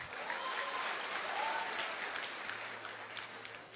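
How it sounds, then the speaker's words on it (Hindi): A seated crowd at a Safe Shop meeting claps loudly for those from Darbhanga, a dense, continuous roar of many hands heard from a distance and sustained throughout. "एक जोरदार ताली दरभंगा वाले के लिए"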